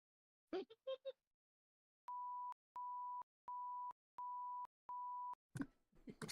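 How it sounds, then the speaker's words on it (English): Five evenly spaced electronic beeps, steady pure tones each about half a second long, used as a sound effect in a tabletop role-playing game, with brief voices just before and after. "are you guys gonna walk towards the beeping sound?"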